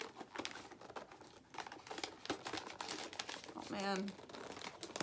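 Fan mail package being torn open by hand without scissors, giving loud crinkling and ripping of paper and plastic in bursts, with a brief exclamation from a voice in the middle.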